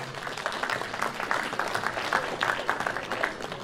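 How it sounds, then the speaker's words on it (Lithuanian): An audience at a vocal ensemble concert in Simnas claps steadily and continuously, a dense wash of many hands close by without pause. "jūsų aplodismentai taipogi"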